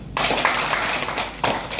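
Audience applause at a New Year motivational sharing session: dense, loud, sustained clapping from a crowd that fills the whole moment, with a brief swell near the end.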